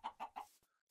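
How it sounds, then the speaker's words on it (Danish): Chickens in the Minecraft video game clucking three times in quick succession, a short clear burst followed by a brief faint tone. "Det er høns og en creeper."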